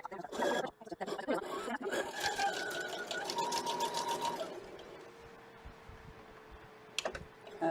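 A sewing machine stitches a quilt in a rapid, steady mechanical whir for about four seconds, then stops, leaving quieter clicks and handling sounds with a voice faintly present.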